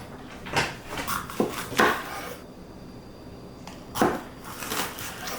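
A knife cuts through fresh jalapeños on a cutting board, several short crisp chops and knocks spaced irregularly, close and clear with a quiet room behind.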